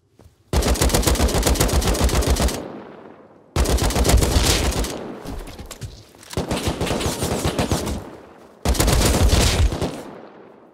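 Four long bursts of rapid automatic gunfire in a shooter video game, loud and close, each lasting a couple of seconds and separated by short silences with fading echoes.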